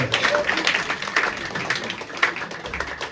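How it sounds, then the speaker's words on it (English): A pub audience at a live show applauds steadily, with dense clapping holding at an even level throughout. "applause for these two people for turning up"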